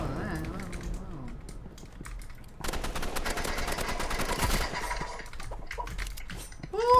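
Pistol fire in the Roblox game Rivals comes as a loud, rapid run of sharp shots in the middle, with scattered game effects before and after and a voice speaking at the start.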